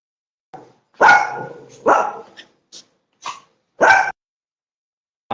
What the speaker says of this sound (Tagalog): Nakakita sila ng passing through na animal, kaya nag-iingay sila. Normal naman sa ano yun, normal naman sa mga aso yun.